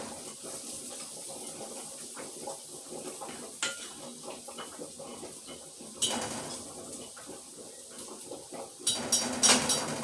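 Minced garlic scooped from a jar into a pot while making a Depression-era beef stew for pressure canning: soft spoon scraping and a few sharp metal clinks against the pot, faint sizzle beneath, no talking.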